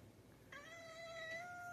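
A single drawn-out cat meow, clear and fairly close, rising slightly then holding steady in a quiet room.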